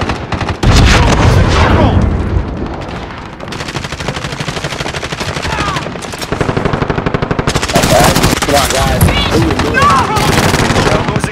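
A fast machine gun fires in Call of Duty: Modern Warfare, with loud, rapid bursts of shots that continue through the whole stretch alongside other battle noise.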